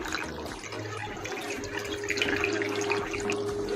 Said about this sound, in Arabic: نازله الميه المغليه بتاعتي